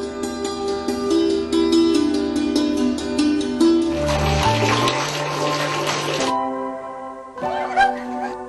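Water runs steadily from a tap for a few seconds in a water-conservation announcement, set against loud background music.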